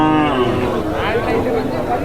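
Cattle at a busy livestock market low and moo loudly and close by, one long call followed by more bellowing, over background crowd chatter and voices.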